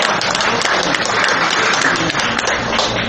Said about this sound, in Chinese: 大家鼓掌一下哦